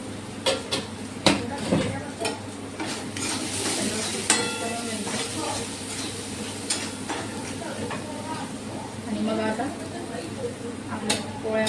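Finely chopped ingredients with homemade masala powder get stirred in a sizzling pan, the spoon scraping and clinking against the metal in irregular strokes over a constant frying hiss, with a person talking at times.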